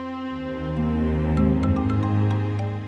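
A phone ringtone plays as an incoming call arrives in a TV drama scene, a tonal melodic tune of sustained notes and bright chimes, moderately quiet with no talking over it.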